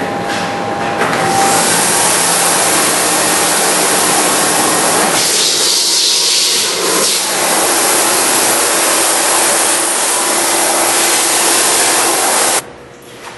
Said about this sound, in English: Your HEPA designed vacuum will come with all kinds of adjustments and additions.